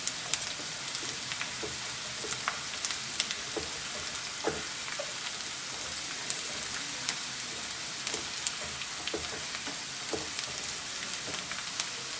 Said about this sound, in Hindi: ये हम जिंजर गार्लिक का पेस्ट इसमें ऐड करेंगे।